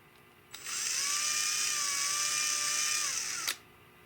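A power drill whirs at high pitch for about three seconds, drilling into a Tikka T3 rifle stock, starting and stopping abruptly, close up and alone.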